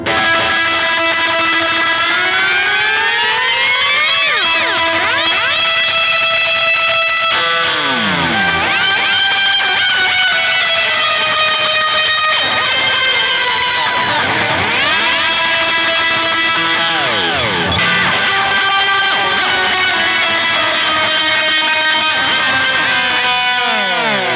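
An electric guitar solo plays with delay and whammy pitch effects, loud and continuous, its notes bending and diving sharply over sustained, layered tones.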